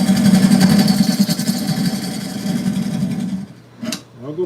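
A wood lathe spins an oak burl while a carbide tool cuts it, giving a loud, rough, continuous grinding roar. The noise stops after about three and a half seconds, and brief faint noises follow.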